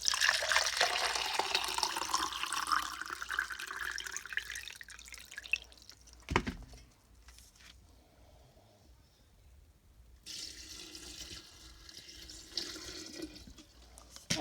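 Water is poured from a measuring cup into a vinegar solution for soaking pinecones, giving a steady splashing stream for about six seconds that then drops to faint trickles and drips, with no talking.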